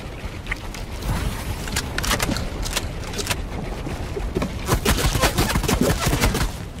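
Fortnite gunfire near a farmhouse, with rapid overlapping shots and bursts crackling steadily over a dense game soundscape, loud and continuous throughout.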